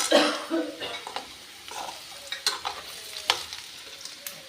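Arbi (taro) fries in a pan with a close, crackling sizzle, broken up by several sharp scraping stirs of a utensil and a brief cough near the start.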